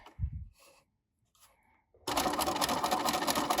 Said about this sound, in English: I'm going to sew right down the center of the twill tape.